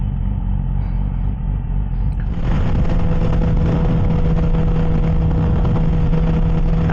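A Yamaha R6 sport motorcycle cruising along an open road, its engine a steady close rumble with a sustained tonal drone and heavy wind roar that swells and stays loud after the first couple of seconds.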